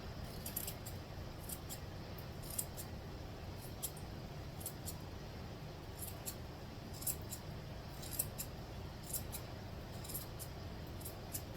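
Scissors trim yarn into a pom-pom, their quick, repeated snips clicking steadily and close over a constant background hiss.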